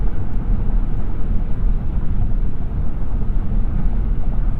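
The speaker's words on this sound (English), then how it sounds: "So you can hear even on this concrete highway, not too much road or wind noise." Cabin road and wind noise inside a 2021 Lexus RX 450h cruising on a concrete highway, a steady low rumbling roar with a muffled airy hiss, constant and even throughout with no talk.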